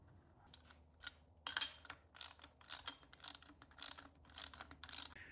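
Ratcheting wrench clicks while tightening fittings on a Craftsman air compressor, a series of quick close ratchet bursts coming in a steady rhythm, faint and without speech.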